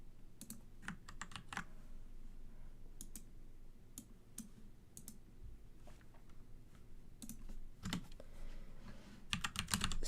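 Someone types Python code on a computer keyboard in a quiet room: a steady stream of close, light key clicks comes in quick bursts with short pauses, and nobody speaks.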